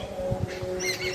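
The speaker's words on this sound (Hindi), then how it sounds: "ये चिड़ियाँ चहचहा रही है।" Mynah birds, a rajmaina type, chirp in short scattered calls outdoors among trees tossed by spring wind, with a steady low hum and gusty noise underneath.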